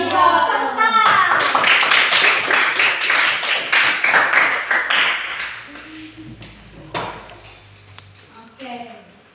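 Classroom of students clapping together, a loud burst of rhythmic applause that gradually thins to scattered claps, with voices talking before and after.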